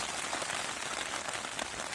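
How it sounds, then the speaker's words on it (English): Dense, heavy rain drums steadily on the fabric of a Fjallraven Akka Endurance 2 four-season tent, a loud continuous patter filling the whole stretch. "I think this will do it good, a good downpour."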